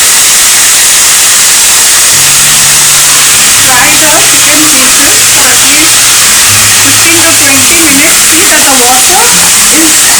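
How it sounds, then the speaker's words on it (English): Loud, constant sizzling hiss of chicken pieces frying in a pan of browned melted sugar, with a few faint clinks and low background murmurs underneath. "will add the chicken pieces and then fry"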